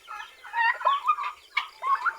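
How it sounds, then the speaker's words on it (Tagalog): Hens cluck and chatter in short bursts, several calls close together with brief pauses, nearby and clear against a quiet background. "Well, ito, napakain mo na yung mga manok."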